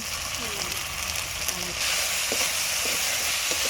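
Potatoes and eggs fry together in a pan of oil for a picnic meal, giving a loud continuous sizzle with occasional stirring scrapes, growing brighter partway through.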